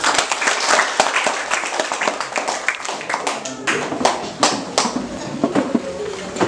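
An audience at a teacher-training session bursts into dense, steady clapping that continues for several seconds, close and loud, with voices mixed into the applause.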